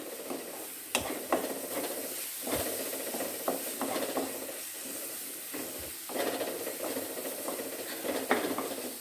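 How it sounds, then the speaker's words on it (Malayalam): Prawn biryani masala and spice powders sauté in a pan with a low sizzle, cut by sharp intermittent clacks and scrapes of a spatula on metal, close and with no one talking. "നന്നായി മിക്സ് ചെയ്ത് പൊടികളുടെ എല്ലാം പച്ചമണം മാറുന്ന വരെ ഒന്ന് വഴറ്റി കൊടുക്കാം"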